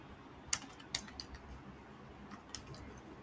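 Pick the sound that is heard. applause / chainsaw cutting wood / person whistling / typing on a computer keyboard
typing on a computer keyboard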